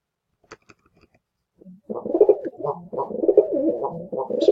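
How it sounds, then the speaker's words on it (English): A pigeon coos loudly right beside a microphone, a run of throaty rolling calls that go on for several seconds after a few faint clicks and a brief murmured voice. "This bird is yelling in my ear as he tends to do"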